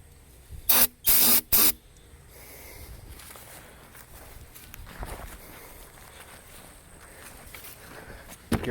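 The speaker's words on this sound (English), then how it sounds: "Just giving her a spritz of ether every time" Three sharp, loud bursts of aerosol ether spray into the engine of an old, long-abandoned Mercedes 300CD, each a second or less long, followed by quiet shop ambience and faint movement.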